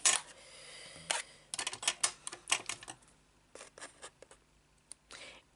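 Scissors cutting both ends of a cardboard craft box, a series of close, crisp snips in quick irregular clusters with short pauses between them.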